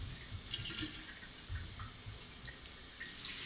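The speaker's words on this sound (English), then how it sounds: "So as I'm washing my hands" Tap water running softly into a sink while hands are washed in an ecological sanitation bathroom, a faint steady trickle with light splashes and drips, no voices.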